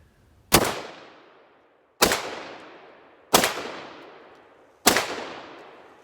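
Four loud shotgun blasts from a Remington Tac pump shotgun loaded with a mix of birdshot and buckshot, fired outdoors. Each sharp report rings out with a long decaying echo, spaced roughly a second and a half apart, with no talking.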